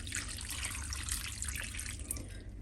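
Water pours steadily into a cooking pot for a stew of pork trotters being made for tostadas, a continuous close trickling splash with no talk, ending in a brief louder clatter.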